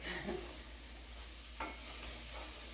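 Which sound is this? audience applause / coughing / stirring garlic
stirring garlic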